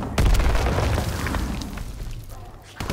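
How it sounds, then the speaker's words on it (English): Video game grenade explosions, a sudden loud boom that decays into a rumbling tail over a couple of seconds, followed by the start of another blast. "Grenades!"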